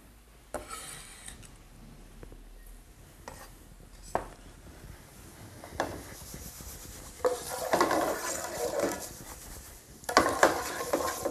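Mustard and cumin seeds heat in a pan, faint sizzling at first with scattered scrapes and taps, then swelling into a louder crackling hiss in bursts toward the end.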